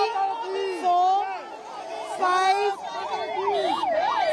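An ambulance siren wails in rising and falling sweeps, growing steadier toward the end, as it leaves a tunnel rescue site in Uttarkashi; crowd chatter and voices mix in underneath.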